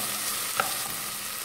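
Onions frying in a pan until golden before dried salted beef is added, a soft steady sizzle close by with a brief stirring scrape and no voices.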